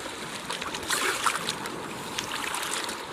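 Sea waves washing onto a white sand beach on the Philippine Sea, a close, continuous hiss of surf that swells briefly near the start before settling into a steady wash.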